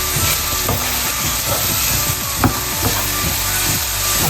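Onion and zucchini fry in a pan with a loud, continuous sizzle, punctuated by repeated scraping strokes of a wooden utensil stirring the vegetables close by.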